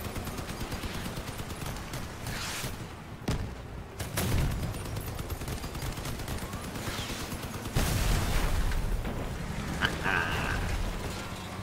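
Rapid bursts of gunfire from vehicle-mounted weapons in the vehicular combat game Crossout, a dense, loud, continuous rattle over mechanical clatter, with heavier blasts breaking through near the middle and again toward the end.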